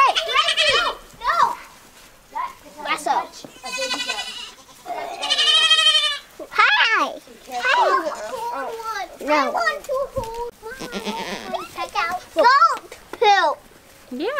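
Newly arrived goats bleat repeatedly on a farm, long wavering cries close by, mixed with children's excited voices and chatter between the calls.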